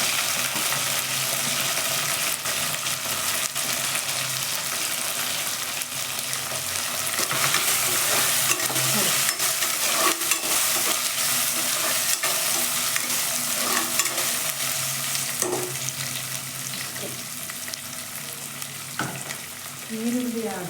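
Onions frying in a pan with a loud, continuous sizzle close by, broken by scraping stirs and clinks of a spoon throughout, with no talking.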